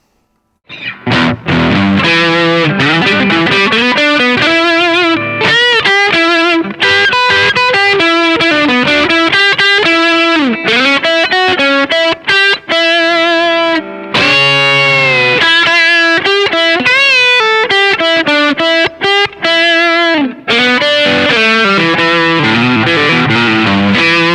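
Heavily distorted electric guitar with humbucker pickups and a thick, chunky tone plays continuous bluesy riffs and bends, loud and up front with no voices.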